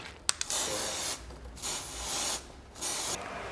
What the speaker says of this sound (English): Now this is a high tack spray grease to avoid that.